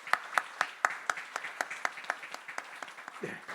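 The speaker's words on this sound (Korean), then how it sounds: "우리 축복의 박수하도록 하겠습니다." A church congregation claps together in blessing during a Sunday service, a series of steady rhythmic claps, moderately close, ending with a brief murmur.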